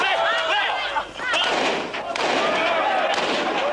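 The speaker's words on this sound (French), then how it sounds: "Soudain, à l'extérieur, des coups de feu." Gunfire breaks out outside a stadium in Kinshasa: several sharp thumping reports cut through loud crowd clamor and shouting voices.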